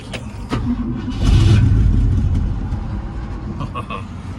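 A 1966 Ford Thunderbird engine cranks and catches, rising into a loud rumbling idle that settles slightly, heard up close with a few faint clicks and background sounds.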